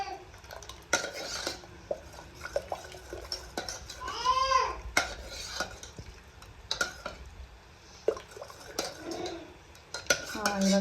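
Cooked lentils being mashed in a pot, irregular scraping and knocking of a utensil against metal, with occasional clinks and squeaks, moderately close and unaccompanied by talk.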